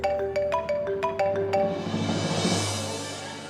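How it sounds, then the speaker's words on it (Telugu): A mobile phone rings with an incoming call, giving a bright repeating melodic tone in short regular bursts before it fades under swelling dramatic music. "రఘు నెంబర్ నుండి కాల్"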